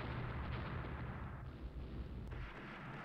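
Dense, continuous booming naval gunfire with heavy low rumble, steady and loud throughout with no pauses, a sustained naval barrage in the game Rule the Waves.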